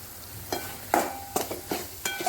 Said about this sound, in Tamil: அந்த தக்காளி நல்லா வதங்கட்டும்